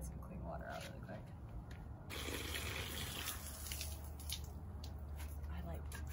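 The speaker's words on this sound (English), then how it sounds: "I'm just gonna run it through the hose and like get some clean water out really quick." Water runs steadily through a hose at a van campsite, a continuous soft gush and splatter with a low hum underneath, while people talk over it.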